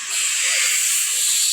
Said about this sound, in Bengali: তো পিঠা ভাজা হচ্ছে